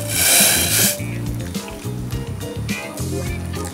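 Boiling water is poured over ground coffee in a bowl, a brief splashing gush at the start followed by softer liquid trickles and light kitchen clatter.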